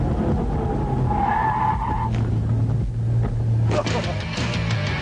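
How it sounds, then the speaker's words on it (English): A Kenny Brown Mustang making speed runs, with a loud, steady engine roar and tire skidding running throughout, and a brief burst of screeching near the end. "Running perfectly, the Kenny Brown Mustang completes its speed runs and moves into second place."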